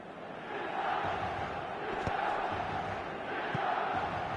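A distant stadium crowd in the football video game eFootball murmurs and roars in a steady wash of cheering and applause, with no distinct voices standing out.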